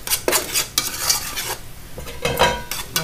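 Red mouth grouper and spices being stirred in a pot, heard as scraping and clinking strokes of a utensil against the pot with a soft sizzle underneath, close and without talk.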